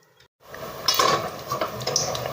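Dough frying gently in oil over a low gas flame, a soft continuous sizzle with faint bubbling and a few light clinks of a utensil against the pan.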